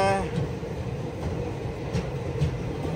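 A train rolls past alongside at Hubli station, a steady close rumble of wheels and carriages with faint rhythmic clacks throughout.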